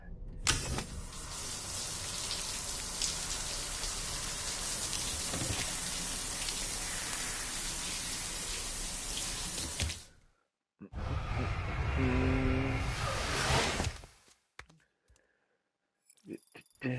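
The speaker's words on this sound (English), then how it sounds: "take a shower." Water hisses steadily from a shower in the video game Death Stranding, cutting out briefly before a second shorter spray, then quiet clicks and a soft sigh.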